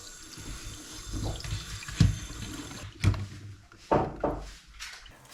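Tap water runs steadily into a sink as a lamb head and trotters are rinsed under it, with several louder splashes and sloshes as the pieces are handled and moved about.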